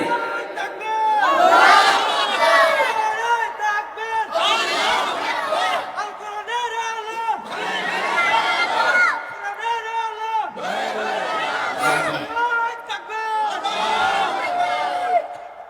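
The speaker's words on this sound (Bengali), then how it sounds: "জোরে তাকবীর দেন।" A large gathering at a Quran tafsir sermon shouts the takbir in unison, several loud rhythmic waves of massed voices rising and falling about every two to three seconds.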